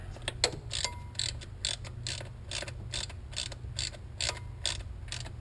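A ratchet wrench with a deep socket snugs down throttle body bolts on a 2007 Cadillac Escalade with a 6.2L V8, a run of quick clicking ratchet strokes in short bursts, close up over a low background hum.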